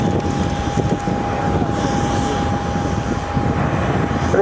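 A military aircraft banks into a tight 360-degree orbit over an airshow at RAF Fairford, producing a loud, sustained engine roar with a steady whine running through it, heard close and unbroken with no talking.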